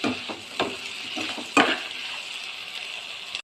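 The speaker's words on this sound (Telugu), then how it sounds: "ఇలా కొంచెం వేగాక వెల్లుల్లి రెబ్బలు, కొత్తిమీర వేసి వేయించుకోవాలి." Garlic cloves and coriander fry in a pan for spicy tomato pachadi, giving a soft steady sizzle with a few stirring knocks and scrapes, one sharper clatter partway through.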